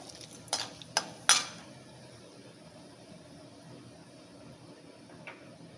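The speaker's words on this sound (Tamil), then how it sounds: "கொஞ்சமாக கடலைப்பருப்பு, எல்லாம் பொரியட்டும்." Chana dal fries in hot oil for a tempering, a soft, faint sizzle beneath a few sharp metallic clinks of a spoon against the pan near the start, then quiet, steady frying with one more light tap.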